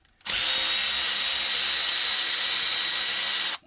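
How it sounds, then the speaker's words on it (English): A battery-powered ratchet spins a 1/2 inch bolt on a 1962 Ford Thunderbird engine, one loud continuous high whir lasting about three seconds that starts and stops abruptly. "these ratchets they pay for themselves"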